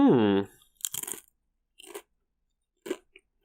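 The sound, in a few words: crunchy bite of a snack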